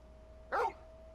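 A single short dog bark in Final Fantasy 16, clear and fairly close over a quiet background with a faint steady hum.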